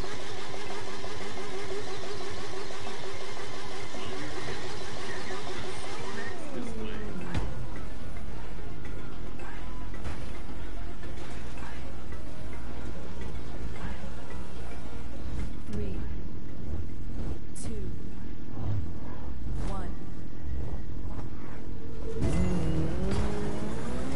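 Classic car racing on a closed circuit in a video game, the engine droning hard, then dropping away after a few seconds and revving again, with rising and falling gear changes and loud bursts near the end.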